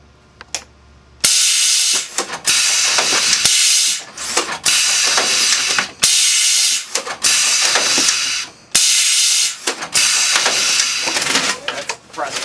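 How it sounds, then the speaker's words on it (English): A TR3-C press machine cycling its press bar outside automatic mode, producing a string of loud hissing bursts, each a few seconds long and cut off by short gaps, repeating steadily up close. "That's the press bar with the machine not in automatic."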